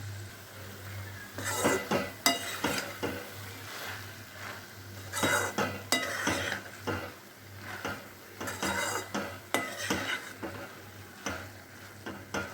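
A spoon scrapes and clinks around a cooking pan in irregular bursts, stirring spices into brinjal sabji with sesame oil, close by, over a steady low hum.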